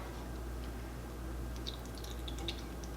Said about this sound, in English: Here goes the olive oil.